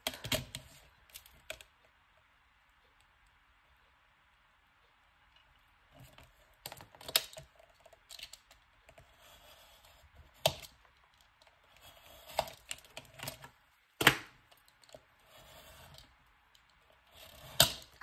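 Scissors snip along a drawn line in short, irregular clusters of crisp cuts, with quiet pauses between them, close by and faint.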